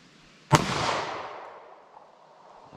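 A single sharp shot from a Taurus G2C 9mm pistol with a 3.2-inch barrel firing 147-grain rounds outdoors at a 75-yard target: one loud crack followed by a long, fading rolling echo.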